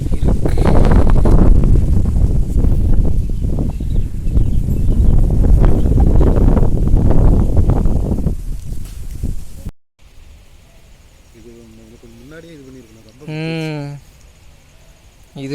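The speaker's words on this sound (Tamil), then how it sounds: "செம காற்று." Strong wind in heavy rain at Mettupalayam near Coimbatore, Tamil Nadu, roaring loud and steady for about ten seconds, then cutting to a much quieter background where a voice speaks.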